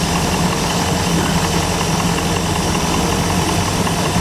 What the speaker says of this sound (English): Right now we're idling at 640, 650, right around there.